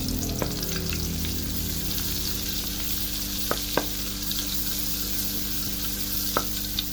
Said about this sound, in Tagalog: Dito sa ating kawali ay mayroon tayong mainit na oil. Lagyan lang natin ng konting butter.